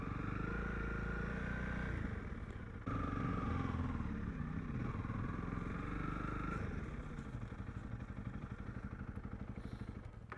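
Motorcycles run at a steady, fairly loud idle and low rumble in the Banghoek Valley of South Africa, with a brief dip partway through before the engines settle into a continuous throb.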